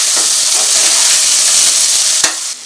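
Green chillies, ginger and vegetables fry in hot oil with a loud, steady sizzle that holds close and even throughout, then drops off sharply near the end.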